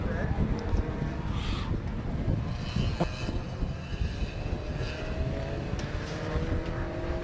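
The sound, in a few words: racing cars passing at Snetterton, Peugeot RCZ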